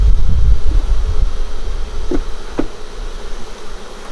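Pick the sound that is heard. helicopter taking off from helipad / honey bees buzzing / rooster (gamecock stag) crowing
honey bees buzzing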